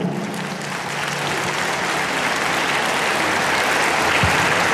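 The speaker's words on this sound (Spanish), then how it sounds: "Te hago un aplauso, Rinan." Steady, fairly loud applause from a gathering at a municipal mayor's address, continuous broadband clapping that holds evenly throughout without talk over it.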